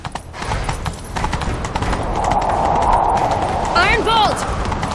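Geralt's horse Roach galloping in The Witcher 3, a steady rapid clatter of hooves under wind and game music, with a brief whinny toward the end.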